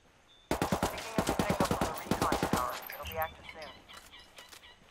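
Rapid gunfire in a tactical shooter video game on a jungle base map: a quick string of sharp, evenly spaced shots, fairly close, followed by scattered fainter reports, with voice chatter in the game.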